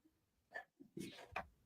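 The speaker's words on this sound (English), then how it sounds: "he's got to sneeze into a microphone" A person sneezes into a microphone, a short close burst with a sharp onset preceded by a quick intake of breath, loud against a quiet background.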